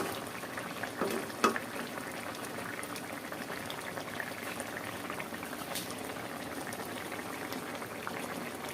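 Curry simmers in a cooking pot with a soft, steady bubbling and faint sizzle close up, a couple of light clinks near the start, no speech.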